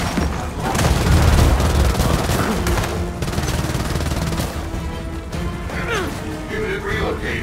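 A frag grenade explosion and gunfire in the video game Gears of War 4, a heavy boom followed by sustained rattling fire and crashes, loud and dense throughout.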